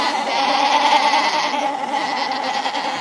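Sheep and goats bleating together as a flock, a steady run of overlapping calls held at moderate loudness for about three seconds, with no talk over them.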